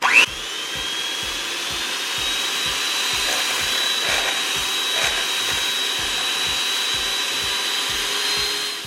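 Electric mixer whipping cream with powdered sweetener and vanilla extract, a loud steady motor whine with a rhythmic beating pulse from the whisks, running continuously close by with no talking.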